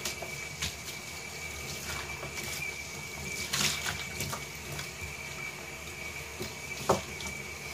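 Running water rinsing kinky curly hair, a steady close splashing and trickling stream with occasional louder drips and splatters, no voices.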